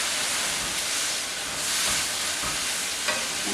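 Vegan pad thai sizzles steadily in a hot pan while being stirred, a dense, continuous frying hiss with soft scraping, close and even throughout, no voices.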